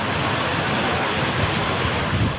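Steady heavy rain pours during a thunderstorm with a dusty squall in Sikar, Rajasthan, a dense continuous hiss that stays loud and even throughout with a low rumble underneath.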